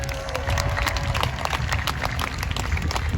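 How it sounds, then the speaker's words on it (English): Audience applause at a jousting tournament at Hampton Court Palace, a broad steady wash of clapping from a large outdoor crowd, sustained and even throughout. "Give huge applause for Steve Lawson on Heracles"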